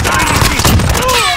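Gunfire in a video game heard as a short burst of sharp reports, dense and close, with faint game effects around it.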